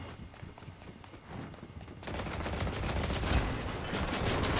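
Rapid pistol fire in a Fortnite competitive FNCS match, a dense burst of repeated shots that grows louder and busier partway through, layered with game effects and footsteps.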